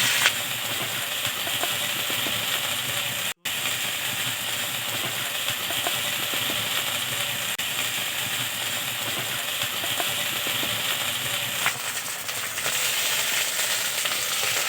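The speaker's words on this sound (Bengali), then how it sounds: "এবার একে একে আমরা মশলা বাটাগুলো দিয়ে দেবো।" Spice paste frying in a pan for Bengali village-style kochu shak, a loud, steady, dense sizzle that runs throughout with only a brief break, close and without talk.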